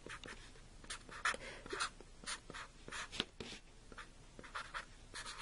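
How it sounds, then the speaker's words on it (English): Pen or marker strokes scratch out a physics formula in short, quiet bursts, faint and close, with brief pauses between strokes and no speech. "let's just write up the formula"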